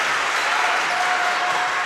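A steady roar of a high school gym crowd cheering and clapping at match point in a Wahoo versus Ashland Greenwood volleyball game. The noise is loud, dense and sustained, with no break.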